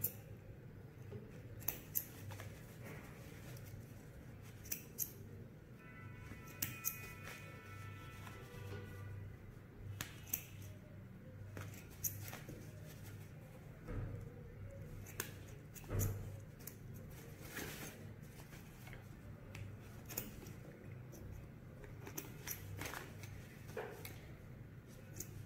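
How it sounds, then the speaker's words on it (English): A seam ripper unpicks a temporary stitch on a sewn zipper fly, giving quiet, irregular little snips and ticks scattered across a soft background hum. "So we are going to loose it now. You can use your seam ripper."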